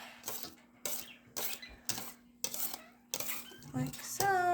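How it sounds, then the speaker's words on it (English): A spoon stirs banana pudding and Cool Whip in a bowl, making a steady run of about seven rhythmic scraping, clinking strokes, close and fairly quiet. "So now we're going to stir this up."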